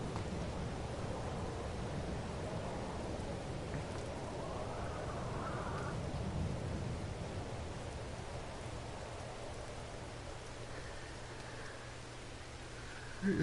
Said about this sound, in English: Waiting for the rain to stop